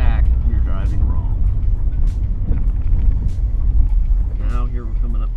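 A manual-transmission car driving and slowing toward a stop, a steady low engine and road rumble running beneath prominent talk from people inside.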